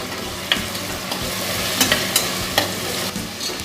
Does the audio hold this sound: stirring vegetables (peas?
yes